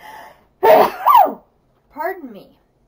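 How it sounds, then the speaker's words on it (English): A single sneeze bursts out close and loud, preceded by a faint breathy intake and followed by a softer, shorter vocal sound. "I'm gonna sneeze."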